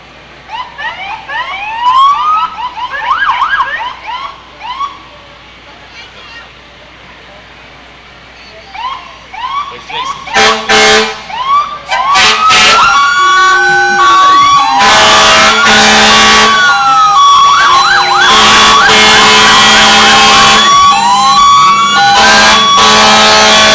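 Siren of a 2014 Ford sheriff's car in a county fair parade, wailing in rising and falling sweeps, then growing much louder with rapid yelping tones and engine noise, close and piercing over the final stretch.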